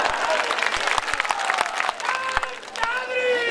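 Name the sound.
crowd applauding at a political speech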